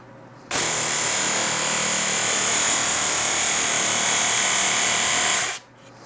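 A Work Sharp Mk2 knife and tool sharpener grinds a blade in one steady, loud whine lasting about five seconds, starting and stopping abruptly with no talk over it.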